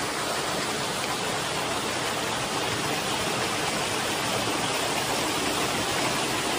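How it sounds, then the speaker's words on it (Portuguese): Pure spring water runs steadily from the stony hillside of a rural farm, a loud, continuous rushing splash that fills the whole moment with no pause and no voices. "Água puríssima. Água das pedras, da vertente do morro."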